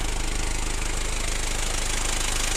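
A Mazda Bongo (Ford Freda) engine idles steadily during a coolant bleed, giving a continuous close mechanical hum with a faint rattle and no talk.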